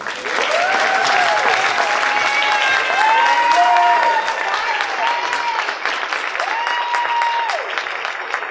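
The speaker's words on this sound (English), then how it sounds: "Please give our new members a round of applause." Strong, continuous applause greets new members at a 2019 NTHS induction ceremony, with scattered whoops and rising cheers from the crowd mixed into the clapping throughout.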